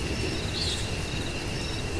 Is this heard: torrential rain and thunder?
yes